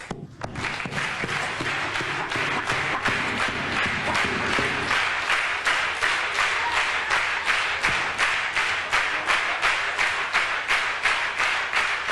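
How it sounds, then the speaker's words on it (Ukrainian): An audience at a 1991 Jim Carrey stand-up comedy show claps in steady unison, keeping a regular beat of loud, evenly spaced claps that lasts the whole stretch. "Допомагайте, плескайте в долоні."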